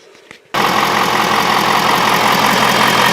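An engine on a far-west Texas homestead, jump-started with a rigged jumper cable setup, catches after a brief quiet moment and settles into a loud, steady rumbling idle close to the microphone.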